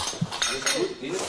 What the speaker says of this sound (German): Nicht kaputt machen das Geschirr, wir brauchen das nochmal.